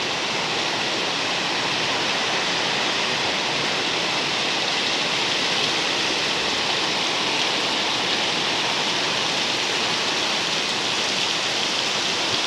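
Heavy typhoon rain from Typhoon Lan (Paolo) in Iloilo, Philippines, October 2017, falls steadily, heard from a porch as a dense, unbroken roar like a waterfall, loud and constant throughout.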